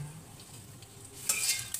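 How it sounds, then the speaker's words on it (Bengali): Cornflakes fry in hot oil in a non-iron pan, being made into a chanachur snack. A faint, soft crackle runs throughout, and a brief, louder stirring scrape comes near the end. "কর্নফ্লেক্সটা পুরোটা ভাজা হয়ে যাবে"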